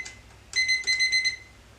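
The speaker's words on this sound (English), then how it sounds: "Now I'm going to set my timer" A kitchen timer being set chirps out a quick run of sharp, high electronic beeps close by, starting after a brief pause, in a home kitchen while breakfast cooks.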